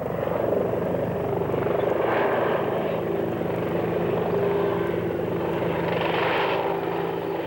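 A naval helicopter over a ship's deck drones steadily and loudly, its rotor chop pulsing throughout with no pauses.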